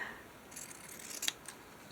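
Scissors snip through a fabric strip in a few quiet, close crisp cuts, with a sharper snip near the middle.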